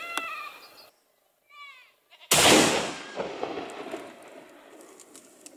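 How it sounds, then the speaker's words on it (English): A single loud rifle shot cracks out during a goat hunt in New Zealand's hills, then echoes and rolls away for several seconds. Bird chirps come just before the shot. "Beautiful shot, mate."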